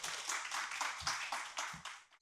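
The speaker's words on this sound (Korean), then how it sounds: "큰 박수로 맞아주시면 감사합니다." Audience applause greets a political science professor at a university humanities lecture event in Korea, with dense clapping filling the room steadily for a couple of seconds, fairly near and moderately loud.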